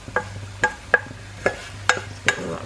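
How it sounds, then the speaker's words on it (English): A spoon stirring rice, onions and prawns together in a pan for a korma-spiced prawn pilaf, six distinct scraping knocks against the pan at an uneven, unhurried pace over a soft background hiss. "I'm going to mix my rice in with my prawns"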